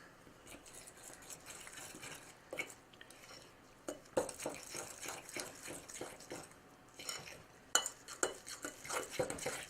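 Corn muffin batter mixed by hand with a spoon in a bowl, quiet steady stirring and scraping with soft clinks against the dish, no talking.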